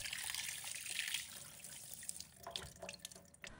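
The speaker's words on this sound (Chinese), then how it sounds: "鱼头也不能放过，多冲洗几遍" Tap water runs steadily over a sea bass head being rinsed at a kitchen sink, a close continuous splash that breaks into uneven trickles and drips toward the end.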